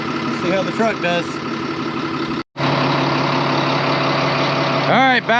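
A farm truck with a weak battery idles and runs steadily at close range, its engine drone continuous apart from one brief dropout midway, with people talking over it.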